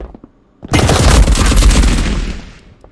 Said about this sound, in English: gunfire noises.